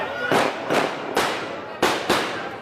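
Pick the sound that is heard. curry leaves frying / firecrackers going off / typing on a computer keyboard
firecrackers going off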